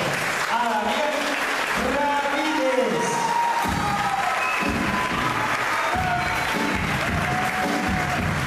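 Audience applause and cheering at a live show in a theatre bar in La Plata, a dense continuous crowd roar with voices and whoops mixed in throughout.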